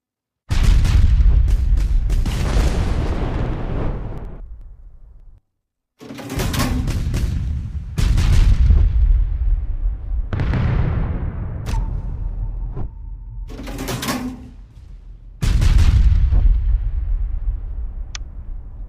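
Naval gunfire strikes a ship in the Battle of Warships video game, with HMS Repulse under fire. Loud, heavy booms hit one after another, each fading into a rumbling decay, with short quiet gaps between them.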